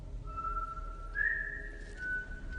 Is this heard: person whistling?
yes